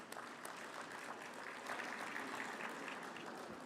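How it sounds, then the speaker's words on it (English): Audience applause at a conference luncheon, a faint, even patter of clapping from a modest crowd that lasts a few seconds. "So please join me in a round of applause for Motion Canada for the lunch today."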